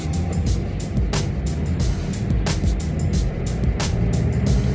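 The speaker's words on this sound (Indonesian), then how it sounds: "kita sambil injak gas secara perlahan supaya mobilnya" A manual car pulls away slowly as the clutch is eased out and the gas pressed gently. The steady engine drone sits under a recurring ticking, like a turn signal, heard close from inside the car.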